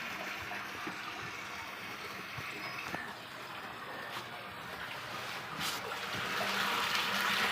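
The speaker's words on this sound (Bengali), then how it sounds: "এইটা কিন্তু সেই ফিল্টার ট্যাঙ্কি এটাই কিন্তু জলটা এখন ভরে যাচ্ছে" Water pours steadily into a filter tank, a continuous close rushing flow that grows slightly louder toward the end, with no talking.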